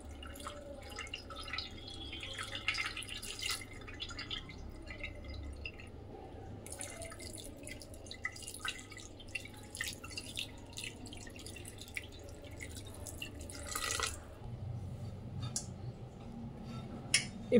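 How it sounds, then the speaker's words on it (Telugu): Cold water from the fridge is poured over freshly strained homemade paneer, giving a steady close trickle and splash with scattered drips, no talking. "ఇప్పుడు ఇలా వడపోసుకున్న పన్నీర్ మీద కూల్ వాటర్ పోసుకోండి."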